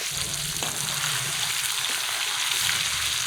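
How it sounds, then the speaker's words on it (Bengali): Pieces of katla fish fry in hot oil in a kadai, giving a steady, dense sizzle that stays loud and even throughout, with a couple of faint clicks and no voices. "মাছগুলো তো ভাজার জন্য কড়াইতে দিলাম"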